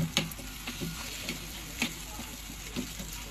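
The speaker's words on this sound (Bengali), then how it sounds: "আলু আর চিংড়ি মাছের যে মিশ্রণটা সেটা দিয়ে একটু নেড়ে চেড়ে নিব।" A potato and shrimp mixture sizzles in a pan as a spoon stirs it, with a steady frying hiss and a few distinct scraping taps spaced about half a second apart.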